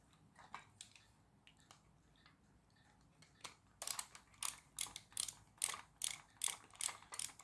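A screwdriver undoes a screw on the motor clamp of a Nikko VelociTrax toy, giving faint scattered clicks that turn into a close, steady series of sharp ratcheting clicks, with no talking.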